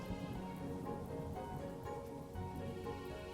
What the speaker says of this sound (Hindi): वर्षा यानी बारिश।